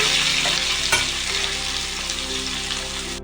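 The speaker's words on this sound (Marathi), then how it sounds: "या कडेमध्ये सर्वात पहिलं हा कांदा टाकून घ्यायचा आहे" Onion frying in a kadai for tawa bread pizza, a dense continuous sizzle close up with a few stirring scrapes, loud and steady without any talk.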